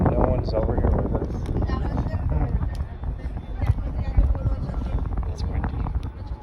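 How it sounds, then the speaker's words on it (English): Wind on top of Hoover Dam buffets the microphone with a steady, low, rumbling roar, and people can be heard talking beneath it. "It's windy."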